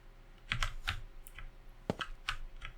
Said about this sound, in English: pressing the computer keyboard like that is how you interact with computers in this game